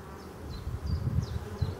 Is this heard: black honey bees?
yes